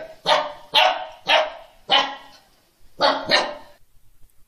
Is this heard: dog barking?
yes